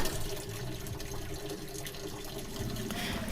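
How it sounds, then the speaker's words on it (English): Water pouring steadily into a sailboat's aft cabin during a leak test of hull welding, a continuous close rushing and splashing with no pauses. "We're just filling up the aft cabin here with water to test, to see if the welding is holding up."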